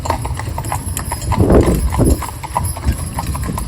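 Hooves of cob horses clip-clopping on a town street during training, a close, uneven series of sharp knocks repeating through the moment, with a faint voice in the background.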